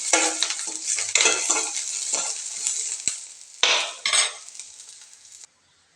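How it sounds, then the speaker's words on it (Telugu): A teaspoon of oil fries in a pan for mint chutney, with loud bursts of sizzle and spluttering, scraping of a utensil against the pan, then sudden quiet at the end. "కొద్దిగా ఆయిల్ యాడ్ చేసుకోవాలి ఒక టీ స్పూన్ అంతా వేయించుకోవడానికి"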